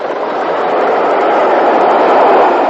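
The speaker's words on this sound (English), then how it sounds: "this is a Liverpool train on the Birmingham Central avoiding line" A Liverpool-bound train runs on the Birmingham Central avoiding line in Britain around 1960–62, giving a steady, loud, continuous rumble that holds close and even throughout with no talk.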